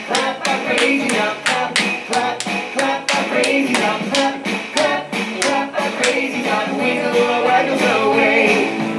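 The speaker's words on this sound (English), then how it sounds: "Clap, clap, clap our crazies out." Children clap their hands in a steady, regular rhythm along with a bouncy action song, the claps loud and close over the music throughout.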